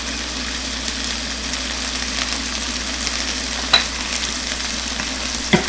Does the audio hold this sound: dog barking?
no